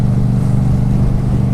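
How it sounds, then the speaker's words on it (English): Loud, steady engine drone from a Yamaha MT-07 motorcycle running a full Akrapovic exhaust with no baffle, deep and rumbling at a constant pace, heard close up with no voices. "So I'm running a full Akrapovic exhaust system"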